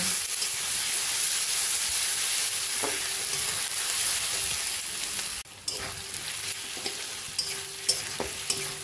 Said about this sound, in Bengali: আলুটাকে একটু পেঁয়াজের সঙ্গে ভেজে নেব।